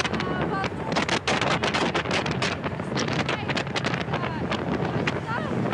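Strong storm wind buffets the microphone over the Black Sea at Sochi, a loud continuous roar with gusty bursts that carries sea noise and a voice talking over it.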